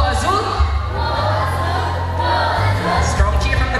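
Girls in the audience at a bird show cheering "go Azul," a loud crowd of voices with whoops rising and falling across a few seconds.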